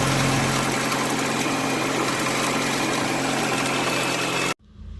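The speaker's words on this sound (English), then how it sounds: "I gotta let it warm up for it to do that misfiring problem, because it doesn't really do it when it's cold." A Honda Integra engine warming up at idle with a suspected misfire and oil-wet spark plugs, running as a steady, close, loud rumble with a constant drone, then cutting off abruptly near the end.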